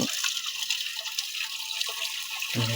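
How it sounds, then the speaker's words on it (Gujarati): Water from a motor pump pours into a small tank, a steady broadband splashing gush that runs continuously before cutting off near the end. "મિત્રો, પાણી આવ્યું."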